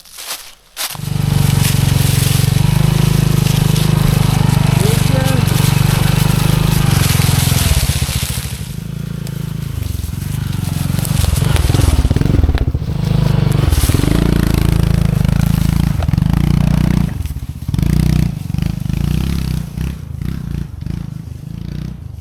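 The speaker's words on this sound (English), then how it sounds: "let's ride on up the hill here" A Honda CT125 motorcycle climbs a hill on a wooded single-track trail, its engine droning loud and close throughout with a steady low rumble that swells and roughens as the bike works uphill over uneven ground.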